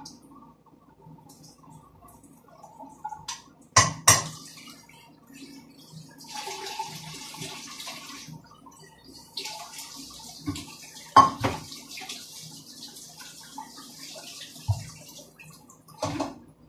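Quinoa is rinsed and strained under running water in a kitchen sink. Gushing and splashing water comes in bursts, with sharp knocks from a metal strainer or pot in between and quiet gaps, and no one speaks.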